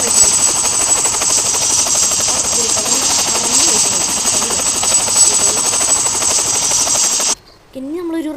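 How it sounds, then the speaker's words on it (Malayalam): A helicopter in a Roblox prison escape game whirs in a loud, steady drone for about seven seconds, then cuts off abruptly, followed by a brief voice. "ഹെലികോപ്റ്റർ കണ്ടോ ഹെലികോപ്റ്റർ ഈസ് ഹിയർ."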